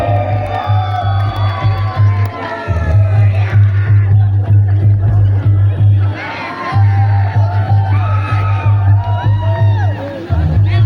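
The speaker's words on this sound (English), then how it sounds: "can we have a big round of applause for him?" Crowd cheering and whooping at a Karbi youth festival event in Diphu, loud and sustained under a heavy low bass hum from the sound system, with shouts and babble rising in waves and briefly dipping twice.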